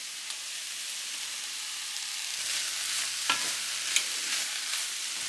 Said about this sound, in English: I've also had the shaved steak cooking over here. I'm just going to add that in.